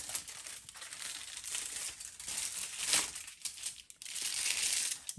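Aluminium foil crinkles and rustles almost continuously as hair is foiled for a balayage colour, with a steady papery crackle and a few brief pauses, close and moderately quiet, with no talking.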